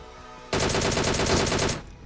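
A burst of rapid automatic gunfire in PUBG Mobile rattles loud and close for about a second, then cuts off into a faint game background.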